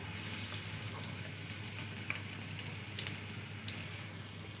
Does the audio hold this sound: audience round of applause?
no